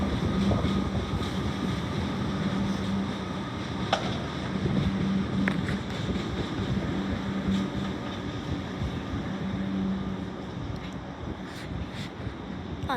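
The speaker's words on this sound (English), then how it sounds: "there's too many trains at the same time" Trains roll through North Melbourne Station, a sustained rumbling rush with steady wind noise across the microphone and a few faint clicks and squeals from the rails.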